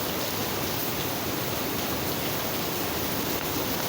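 Steady rain falling outdoors, a dense even hiss that stays continuous and fairly loud throughout with no voices over it.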